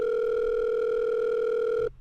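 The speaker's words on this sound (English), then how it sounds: "the line finally rings" A telephone line rings in The Letter visual novel, one loud, steady sustained tone lasting nearly two seconds before cutting off abruptly.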